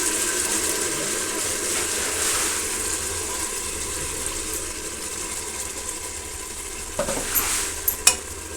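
Ground masala paste fries with tomato in a pan, giving a steady close hiss that runs throughout, with a few sharp scraping clicks of stirring near the end.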